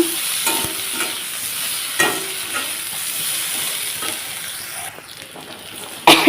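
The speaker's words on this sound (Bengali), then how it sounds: "রসুনটা একটু ভালোভাবে ভাজা ভাজা করে নেবো" Garlic and okra sizzle in hot oil in a pan with a steady hiss, broken by occasional sharp spatula scrapes and taps against the pan, and a louder clatter at the very end.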